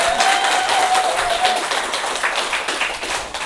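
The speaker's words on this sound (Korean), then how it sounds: "그냥 박수 한번 세게 쳐주세요." Vigorous audience applause at a business seminar, a thick, loud burst of clapping from a roomful of people that keeps up steadily for several seconds, with a faint tone sounding briefly underneath.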